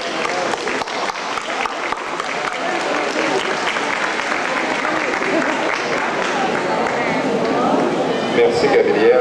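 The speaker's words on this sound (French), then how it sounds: "On l'applaudit." Audience applause at a community event in Cap-Pelé, dense sustained clapping that fills the room and builds slightly over about nine seconds, with some crowd voices mixed in.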